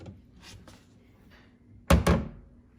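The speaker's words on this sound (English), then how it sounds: "So when we shut the doors" Two quick, solid thuds of kitchen cabinet doors being shut, fitted with LED light strips, landing close together after a quiet stretch of faint background noise.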